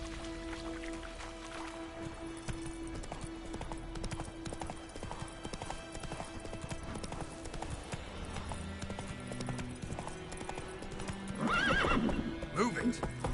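Horse in a video game galloping in a rapid clip-clop rhythm, with a sharp whinny near the end, heard up close alongside game sounds and a voice.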